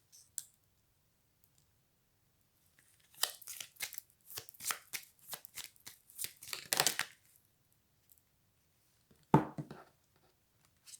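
Tarot cards are handled and shuffled in a quiet room, with a burst of quick papery clicks and riffles for several seconds and then a single louder snap near the end.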